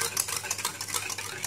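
Instant dalgona coffee is whisked with two spoons of hot water until fluffy, giving a fast, steady, close whirring and scraping with no talk.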